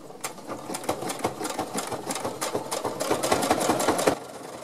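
A home sewing machine stitching a sock runs at a fast, even mechanical chatter that steadies, speeds slightly, then stops abruptly near the end, close and clear with no speech.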